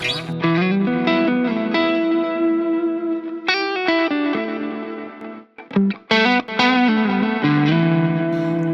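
Electric guitar with single-coil pickup, volume rolled back, played through a Blues Driver overdrive pedal at edge of breakup, ringing chords and melodic licks with a slight crunch, some brief pauses between phrases.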